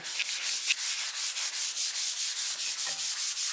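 Hand polishing of a 7-string Les Paul guitar body with unnumbered abrasive pads, a steady run of rhythmic rubbing strokes, close and even, repeating roughly every quarter second with no voices.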